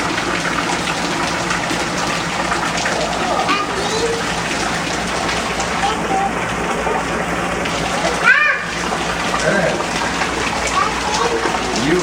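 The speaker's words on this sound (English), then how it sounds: "It's raining." Steady outdoor rain falling with a broad hiss while a child plays and splashes in the wet yard, with brief louder splash bursts near the middle and a voice audible.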